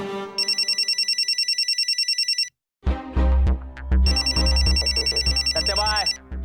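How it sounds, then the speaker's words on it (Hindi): An incoming call rings on a telephone in a steady rapid electronic trill, loud and near. It stops for a moment, then rings again while people talk and music plays underneath. "सत्यभाई, भाभी का फोन आ रहा है।"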